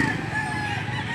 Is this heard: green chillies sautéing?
no